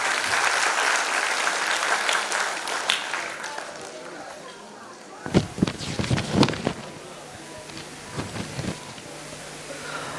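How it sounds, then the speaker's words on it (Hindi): Applause from an audience at a school annual function, honouring former students; steady clapping runs through the first half, then quieter scattered claps and crowd noise follow with occasional louder bursts. "एक्स स्टूडेंट्स के लिए एक बार जोरदार तालियां बजाएं।"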